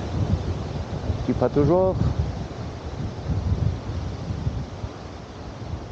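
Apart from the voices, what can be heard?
wind blowing by a campsite swimming pool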